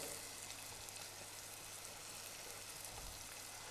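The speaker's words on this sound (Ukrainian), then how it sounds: "Я хочу, щоб в цій гарячій олії спеції розійшлися і відкрили свій аромат та смак." Spices, including coriander seed, sizzle in hot oil while home-cooking beef tushonka, a steady, fairly faint frying hiss with a soft crackle that runs the whole time with no voices.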